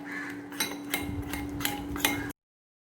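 Masala paste for Kochi-style fried fish being mixed with oil in a bowl, heard as a series of close, sharp clinks and scrapes of a spoon against the bowl in an uneven rhythm.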